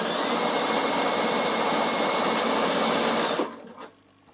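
A Bernina sewing machine stitches ribbing cuffs together in a loud, steady mechanical run that slows and stops near the end.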